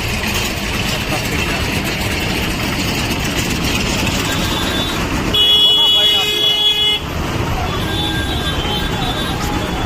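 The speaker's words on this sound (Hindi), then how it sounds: "इतनी गर्मी में कैसा रहेगा ट्रैफिक जाम" A traffic jam on a hot day in Guwahati gives a dense, continuous rumble of idling engines, with a long horn blast sounding midway and some voices in the mix.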